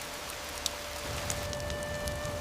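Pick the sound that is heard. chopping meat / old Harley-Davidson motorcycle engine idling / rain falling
rain falling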